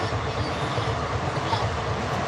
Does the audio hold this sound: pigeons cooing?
no